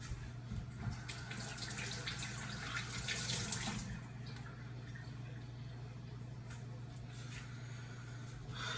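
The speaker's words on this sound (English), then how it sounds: "Let me wash my hands again." Hands are washed under a running kitchen tap, a steady rush of water splashing continuously at moderate distance, with a low electrical hum underneath and brief louder splashes near the start.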